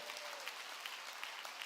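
A church congregation at a sermon breaks into dense, continuous applause, heard a little distant and fairly soft, with a faint voice underneath.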